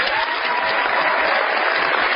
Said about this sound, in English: you get the great big Dr. Glidden round of applause